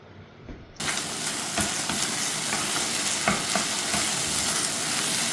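Pakbet vegetables frying in a pan, with a loud sizzle that begins abruptly and continues steadily, broken by repeated scraping stirs at an irregular rhythm, close by with no talking.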